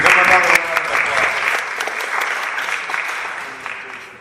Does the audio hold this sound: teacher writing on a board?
no